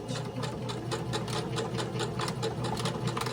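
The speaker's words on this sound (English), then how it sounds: "I'm just going to cross over my stitching and do a little bit of a back stitch" A sewing machine back stitches through fabric for a reversible napkin ring, its needle running in a steady, fast, even clatter over a low motor hum, close and alone.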